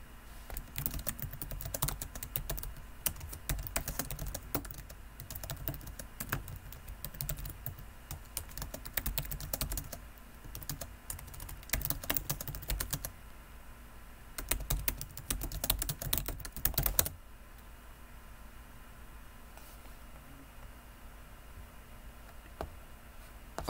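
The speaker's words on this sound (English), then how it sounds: "I'm just typing right now." Steady typing on a computer keyboard, a dense run of close key clicks that pauses briefly and then resumes before fading to quiet room tone near the end.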